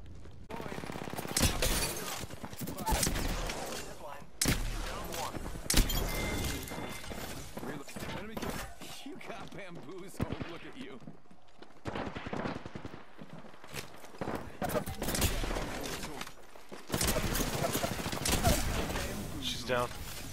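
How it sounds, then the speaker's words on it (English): Gunfire in the shooter game Apex Legends: dense automatic bursts, impacts and game effects for about twenty seconds, with a brief lull midway and player talk running over it. "Opening fire on the enemy."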